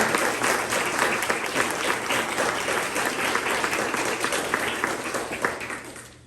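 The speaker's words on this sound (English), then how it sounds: "Can we give her another round of applause, please?" Audience applause for a speaker at a Hispanic Leaders Network gathering, a dense, steady wash of many hands clapping at moderate level that fades slightly toward the end, with no talking over it.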